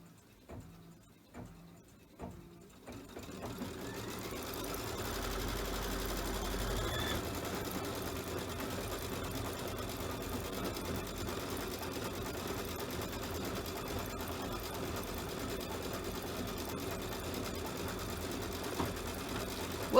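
An embroidery machine runs a long satin stitch around a Santa's bag design. A few separate stitch taps come first, then a steady, faint mechanical whir with fast rhythmic needle clatter continues for the rest of the clip.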